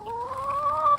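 A hungry chicken lets out one drawn-out, close, rising cluck that lasts about a second before cutting off.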